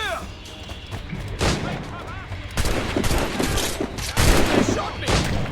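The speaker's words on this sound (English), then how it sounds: "They're shooting back!" Dense gunfire fills a naval battle in the Assassin's Creed Rogue video game, with sustained volleys, sharp cracks and booming bursts that build in waves, while voices shout over the shooting.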